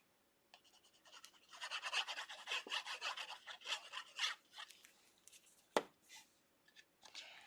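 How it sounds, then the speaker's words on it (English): Paper piece being glided and scraped across a greeting card during card making, a run of close, soft rasping strokes followed by a sharper scrape and a few lighter rubs, with no talking. "You can hear me gliding it across and scraping it on there."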